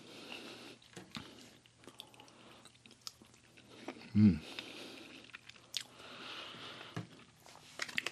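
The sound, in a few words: chewing Japanese MRE sausage with crunchy shell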